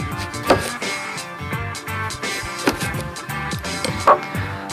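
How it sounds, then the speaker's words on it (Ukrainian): A knife cuts an orange into large pieces on a board, giving a few irregular firm chops under a bed of music. "Та нарізаємо апельсин ось такими великими шматками."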